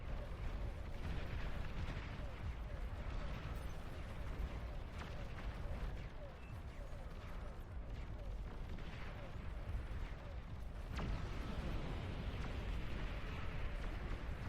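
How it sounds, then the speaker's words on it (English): Massed missile launches in a King of the Hill video game match, a dense continuous roar of rumbling fire and booming blasts filling the whole stretch, with a sharp louder burst near the end and voices faintly present. "I just heard some mass missiles being fired."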